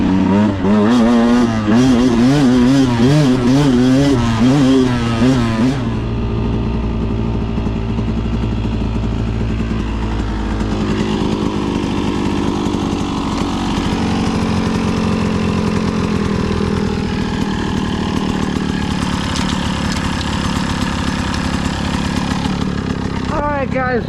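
A 2022 Beta 200RR Race Edition two-stroke dirt bike revs hard and loud nearby on a ride at Peach Valley, first in quick rising and falling bursts, then settling into a steady sustained drone.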